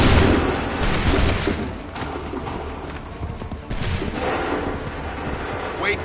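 Musket and cannon volleys roar in a battle scene from Assassin's Creed III Remastered, a dense booming wash of gunfire rumbling and crackling continuously, loud and near, with faint bird calls in the background.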